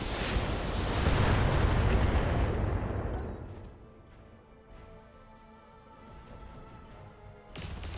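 Mech weapons fire together in the BattleTech game, a heavy rumbling barrage that swells into a dense roaring blast, then decays into scattered impacts and crackles before another burst starts.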